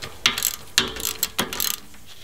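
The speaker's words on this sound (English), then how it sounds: "pull that little screw out" A ratchet backs a small screw out of an axle differential during C-clip axle shaft removal, giving several sharp, close clicking strokes in an uneven rhythm, with quick ticking runs between them.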